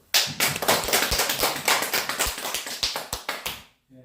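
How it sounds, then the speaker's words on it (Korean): An audience at a seniors' health and dementia-prevention lecture claps together in a dense, steady burst of many hands lasting a few seconds, then stops abruptly, with no talking over it. "우리가 다 같이 나 자신을 위해서 박수 한번 칩시다"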